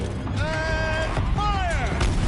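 A heavy mechanical turret on a machine in Horizon Zero Dawn swivels with two long, creaking, whining sweeps, loud and close over a constant low rumble.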